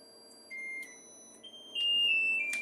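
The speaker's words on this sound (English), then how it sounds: "That's our timer." Kitchen timer in a home kitchen, used while cooking air fryer mac and cheese, giving a series of steady high-pitched electronic beeps, with a louder final run of tones over quiet room noise.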